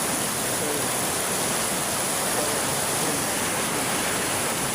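Heavy rain from Super Typhoon Carina with rushing floodwater, a dense, continuous roar of water that stays loud and steady throughout, with no voices.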